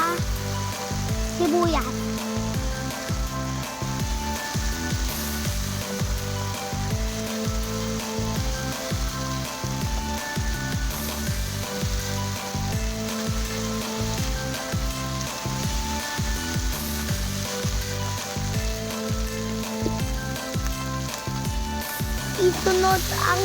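Chicken sizzling and frying in a pan with garlic and onion, a steady crackling hiss with stirring scrapes throughout, while someone talks over it.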